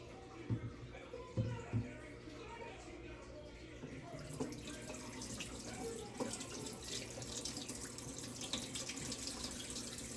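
Water runs from a tap into a sink and drains away as something is rinsed clean of vinegar. The steady splashing flow has a few louder bumps early on, with faint voices in the background.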